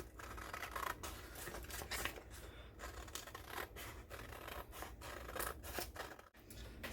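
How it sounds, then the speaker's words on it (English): Scissors snip through folded paper for a handmade paper fan, giving faint, close, repeated crisp cuts and rustling scrapes in a steady rhythm. "Now we're going to cut it out, keeping them both sides together"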